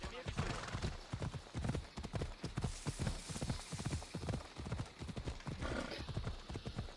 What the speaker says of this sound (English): I'm gonna get my fourth wall breaking horse out here that runs on a rainbow road.